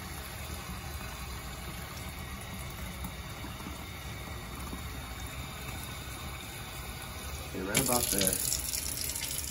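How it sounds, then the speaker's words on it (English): Cold tap water runs into root beer bottles, a steady low rush under a brief spoken remark, then louder splashing for a moment near the end. "we're just going to fill this up with cold water"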